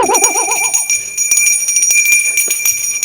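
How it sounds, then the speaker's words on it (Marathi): A theatre stage bell rings in a Marathi comedy sketch, a warbling electric tone for about one second at the start, followed by fainter clattering and background noise. "चल रे बेल दे बेल दे"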